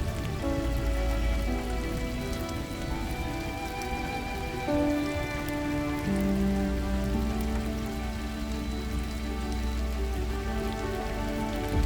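Monsoon rain pours steadily onto surfaces at a roadside coffee stop in Karnataka, a dense even patter with a faint sustained hum running beneath it.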